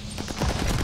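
Rapid gunfire from a gun in Call of Duty: Vanguard, a quick burst of close, loud shots running together without talk.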